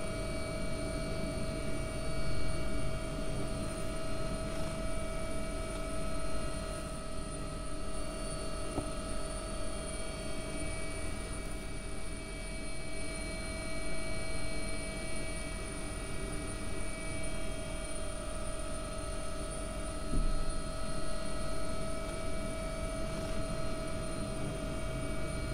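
Steady AW-139 helicopter turbine whine and rotor drone from the X-Plane 11 flight simulator, continuous and fairly loud throughout with even tonal hum and no talking over it.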